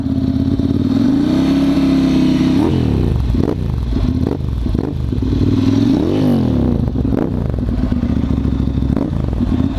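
A Ducati Monster 795 motorcycle with a dual Termignoni exhaust runs loudly up close, repeatedly revving up and dropping back in a series of throttle blips over a steady idle rumble, in neutral.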